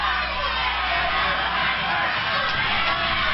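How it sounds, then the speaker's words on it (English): Wrestling arena crowd at a Buddy Rose versus Roddy Piper match chanting for Piper, a dense, steady roar of many voices filling the hall throughout, with cheering and shouting blended together. "We want Piper, the cry from the crowd."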